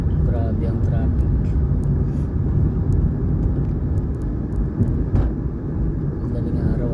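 Heavy road traffic is heard as a steady, loud rumble of passing vehicle engines with a whirring drone. Voices can be heard talking over it.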